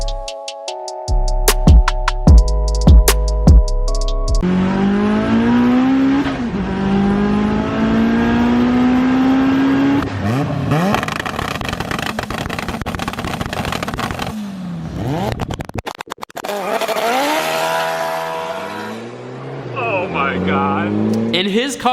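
A 500 horsepower turbocharged 1.6-liter Miata drag car accelerates hard through rising gear pulls, loud and close. Its engine note climbs, cuts out and climbs again, and someone talks over it in places.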